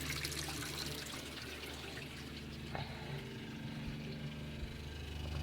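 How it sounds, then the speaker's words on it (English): An RV water pump running while the tap is on, giving a steady low mechanical hum mixed with rushing, trickling water, continuous and fairly loud throughout. "So when I turn my water on, my water pump comes on."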